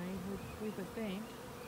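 Honeybees buzz around a hive during a spring inspection, a steady close drone with wavering pitch as individual bees fly past, alone with no talk.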